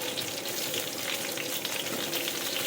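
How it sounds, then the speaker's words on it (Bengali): Pointed gourd frying in oil in a pan as potato is added, giving a loud, steady sizzle with occasional stirring scrapes throughout and no voices. "আমার পটলটা ভাজা হয়ে গেছে এর সঙ্গে কিন্তু আমি দিয়ে দেবো আলুটা"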